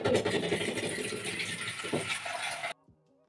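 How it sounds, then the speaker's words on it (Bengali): Water pours steadily into a metal wok for a few seconds, a rushing splashy stream that stops abruptly, leaving near silence. "কড়াইটা বসিয়ে দাও, তারপর একটু জল দিয়ে দাও।"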